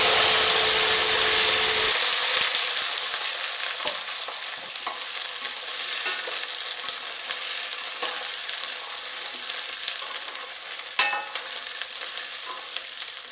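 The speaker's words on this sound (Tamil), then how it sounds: "எண்ணெய் நல்லா காஞ்சதுக்கப்புறம் கடுகு கருவேப்பிலை சேர்த்திக்கிறேங்க" Mustard seeds and curry leaves fry in hot oil for a gooseberry pickle, a loud, close, continuous sizzle that fades slightly after the first couple of seconds, scattered with sharp crackles and pops, and no voices.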